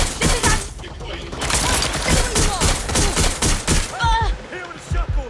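Rapid bursts of gunfire from a shotgun and other weapons in the Watch Dogs Legion video game, loud and dense over several seconds, with a voice speaking over the shots near the end.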